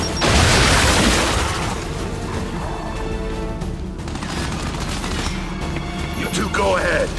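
Frag grenade blast in the video game Gears 5, a loud booming burst at the start that rolls into a sustained rumble with crackling debris and shouted voices over it.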